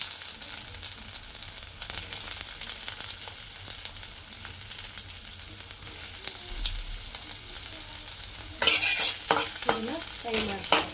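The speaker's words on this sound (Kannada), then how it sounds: "ಇದನ್ನು ಫ್ರೈ ಮಾಡ್ತೀನಿ." Onions and garlic fry in a pan and are stirred steadily, a constant sizzle with scraping strokes throughout, growing brighter and busier near the end.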